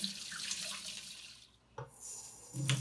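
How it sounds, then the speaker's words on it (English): Water runs steadily from a tap into a sink as hands are washed, a soft continuous splashing with a brief dip and shifts in flow near the end. "you need to wash your hands really good for at least 20 seconds with soap and water"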